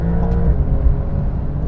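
Porsche 911 Turbo S and McLaren 720S pulling hard in a rolling race from 50 mph in comfort and automatic mode, a steady loud engine drone heard from inside the car.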